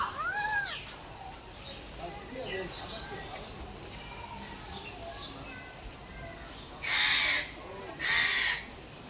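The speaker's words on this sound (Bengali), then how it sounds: "ওই তো উপরে কত সুন্দর পাখি" Crows caw loudly twice near the end amid a chorus of assorted bird calls at the SG Zoo, with people chatting nearby and a steady outdoor hum beneath.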